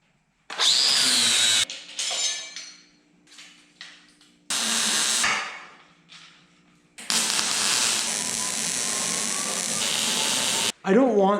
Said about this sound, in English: now I'm going to finish welding and grinding that front panel that I had cut in the last video